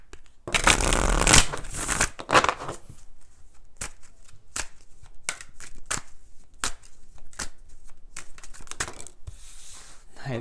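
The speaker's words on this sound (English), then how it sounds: "Let's do three shuffles and figure out what's going on here for Leo." Tarot cards are riffled and shuffled by hand in several bursts: a long flurry of papery flutters at first, then scattered quick snaps and taps, close up, with a voice talking faintly at moments.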